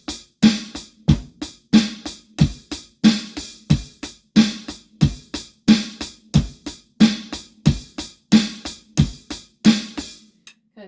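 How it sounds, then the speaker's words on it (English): A steady drum groove with punchy kick and snare hits in a repeating eighth-note pattern, loud and close, playing alone for about eleven seconds. "drum groove 6."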